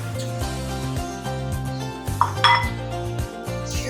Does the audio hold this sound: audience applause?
no